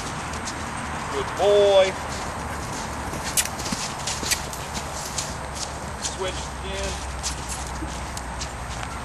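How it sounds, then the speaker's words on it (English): Hoofbeats from Romeo, a horse cantering in a riding arena, patter along under a rider's voice giving commands. A brief loud vocal sound rises near the start. "Get him cantering here."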